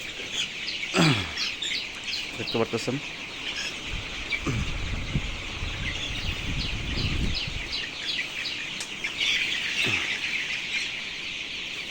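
Twenty-one-day-old colour broiler chickens fill a poultry farm shed with steady high chirping and peeping. Occasional clucks and a brief voice come through.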